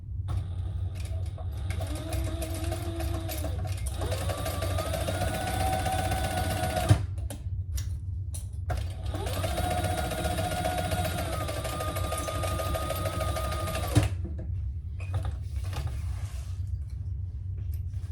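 Sewing machine top-stitching a fabric lining, two long steady whirring runs of the motor with humming tonal drones, each ending in a brief click and pause, close and even, with no talk.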